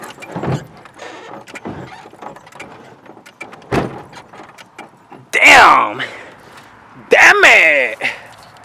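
A Chevrolet Caprice lowrider's rear suspension lowering back down, heard as two loud bursts of hissing, whining mechanism noise close by, each several seconds long, with quieter thumps and shuffling between them.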